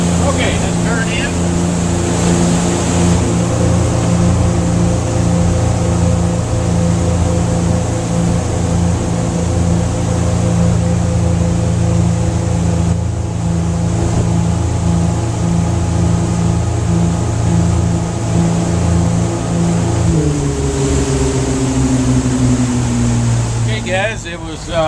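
A Regal 2860 motorboat engine drones loudly and steadily at sea with rushing water noise, the engine pitch dropping near the end as the boat slows; a voice is faintly audible.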